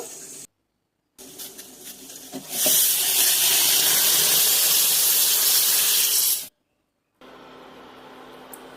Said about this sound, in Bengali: এটা দিয়ে সামুদ্রিক লইটা শুটকিটা আমি ভালো করে ধুয়ে নেব